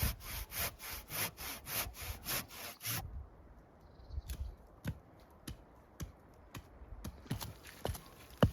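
A tree is cut down by hand with a manual saw, no motor saw: a run of quick, regular rasping strokes up close, then scattered creaks, knocks and single scraping sounds.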